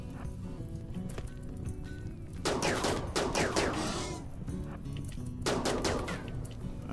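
Gunfire in the colony game RimWorld: two bursts of rapid shots, each lasting about a second or more, over a low steady game background.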